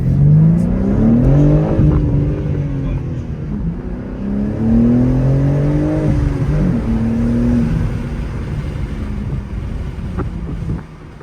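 A BMW M3 with the twin-turbo S68 engine accelerates hard, its engine note rising through a couple of gear changes over a loud, continuous roar with some wind buffeting, then dropping away at the end.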